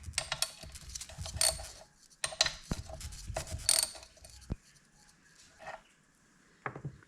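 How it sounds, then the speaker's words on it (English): Bolts are loosened on a Yamaha outboard's impeller housing, with intermittent close metallic clicks, scrapes and ratcheting taps separated by short pauses. "we're just going to undo these 4 bolts to start with."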